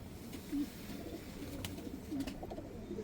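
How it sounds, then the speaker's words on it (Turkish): A pigeon coos softly in a low, throaty repeated pattern, fairly close, with faint background noise and no talking. "Aşırı sesli tonajlı bir kuş."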